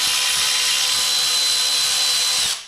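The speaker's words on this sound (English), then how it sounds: "I love this Milwaukee ratchet, but sometimes it's just" A Milwaukee electric ratchet runs continuously with a steady high-pitched motor whine and a broad buzzing hiss, close and loud for a few seconds before cutting off at the end.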